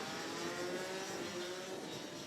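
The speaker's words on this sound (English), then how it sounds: "So the revs rise." DD2 racing kart engines rev together at a race start as karts are released from the pit lane at Kerpen, a dense, continuous buzzing roar with steady high pitch, loud and without speech.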